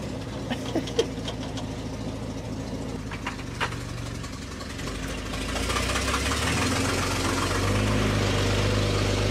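A 1953 Autocar truck engine runs at a steady idle with a low, rough knocking rumble that swells slightly louder toward the end, heard up close with no talking.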